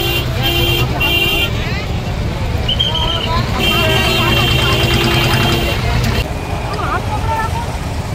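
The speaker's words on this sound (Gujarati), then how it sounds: "બસ અહીંયા ઊભી ગઈ છે ટ્રાફિકમાં." Road traffic jammed on a narrow lane at a crowded Ganesh Chaturthi fair: engines idle and rumble while repeated car and bus horns toot in short bursts, and crowd babble and nearby voices run throughout.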